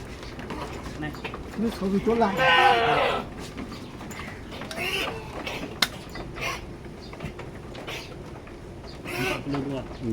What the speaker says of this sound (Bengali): আমরা এই ছাগলটা কিনলাম এখন